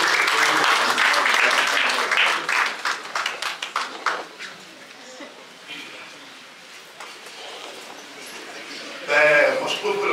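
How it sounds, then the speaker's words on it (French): Loud applause for coach Simon at a business meeting swells at the start, then thins into scattered claps and crowd murmur before a brief burst of cheering near the end, with voices talking over it. "Merci de l'applaudir encore très fort."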